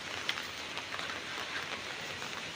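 Faint, steady rain patters on a surface, a soft continuous hiss with scattered drop ticks and no voices.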